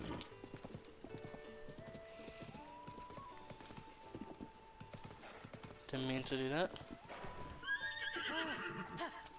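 A horse in The Legend of Zelda: Tears of the Kingdom clip-clops steadily throughout, and near the end it gives a loud, close whinny that rises above the rest. Game music plays underneath, and someone talks briefly over the sounds.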